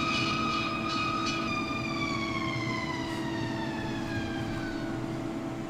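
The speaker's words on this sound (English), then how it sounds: "The sound of 20s fire engines." 1920s fire engine sirens in the Nancy Drew game Secret of the Old Clock, a loud wailing tone that slowly falls in pitch over a low engine rumble, continuous from start to end.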